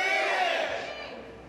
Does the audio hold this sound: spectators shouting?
yes